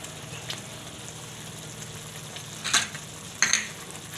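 Gundi, gram flour dumplings, cooking in a curry in a pan, a steady soft sizzle with two brief louder scrapes of stirring near the end, close up.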